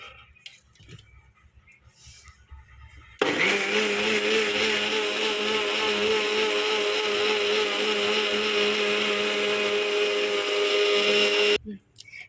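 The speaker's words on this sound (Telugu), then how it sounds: "తర్వాత క్యాప్ పెట్టేసి మిక్సీ పట్టేయటమే" A kitchen mixer grinder churns cream with cool water into butter, starting abruptly with a loud, steady whirring motor drone that holds for about eight seconds before cutting off sharply.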